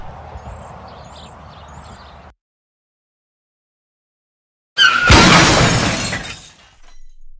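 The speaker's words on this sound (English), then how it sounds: "We crashed in a huge pile of snow." A car in a video game plows into a huge pile of snow. A soft ambient hum gives way to silence, then a sudden loud, crunching, shattering impact that fades over a couple of seconds.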